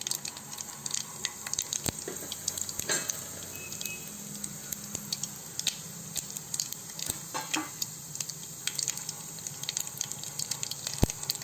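Mustard seeds fry in hot oil for a small-fish curry: soft, continuous sizzling hiss broken by scattered sharp crackles and pops, fairly quiet, with no one speaking.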